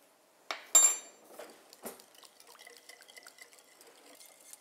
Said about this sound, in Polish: do wrzątku dodaję galaretkę i mieszam aż do rozpuszczenia galaretki.